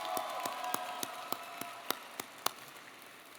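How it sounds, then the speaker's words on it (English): Sparse applause at a high school graduation ceremony, a thin patter of claps from a distant crowd with a few sharper individual claps standing out. "Please give her a round of applause."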